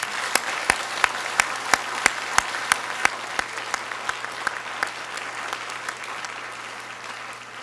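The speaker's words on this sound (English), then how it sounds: "please join me in giving a heartfelt round of applause for our OIST graduates of 2025" Sparse, steady clapping from a small group at the OIST 2025 graduation ceremony, individual claps spaced regularly and fairly close, slowly thinning out.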